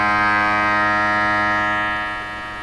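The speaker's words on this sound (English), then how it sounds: "Now that's the sound of the sweep generator zooming through the radio." A sweep generator signal runs at full speed through a Nordmende radio, giving a steady buzzing electronic tone with many layered harmonics that holds and then fades slightly toward the end, with no talking.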